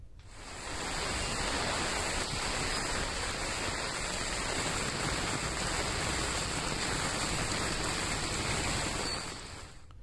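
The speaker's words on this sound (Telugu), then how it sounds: "హైదరాబాద్లో పలు చోట్ల భారీ వర్షం పడుతోంది." Heavy rain in Hyderabad pours as a dense, steady hiss that swells up, holds evenly for several seconds and then fades, with no voices.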